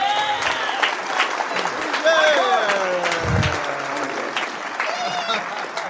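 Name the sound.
applause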